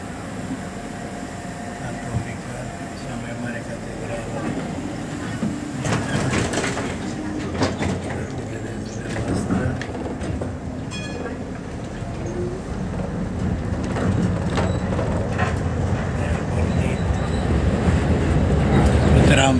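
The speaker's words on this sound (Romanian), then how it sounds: "Aici e stație de tramvai, ne oprim." Inside a tram stopping at a stop and moving off: steady rumbling and rattling of the car, clattering wheels growing louder as it rides on, with faint voices in the background.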